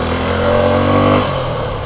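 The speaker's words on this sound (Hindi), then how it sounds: "तो थोड़ा सा सॉफ्ट रोडिंग करके देखते हैं इस वाली मोटरसाइकिल के साथ" A 2022 Suzuki V-Strom 250 SX motorcycle engine revs up loud and close, its pitch climbing, then settles back to a lower idle-like drone.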